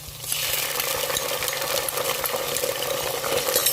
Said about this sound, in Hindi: अब हम इसमें डालेंगे अदरक लहसुन का पेस्ट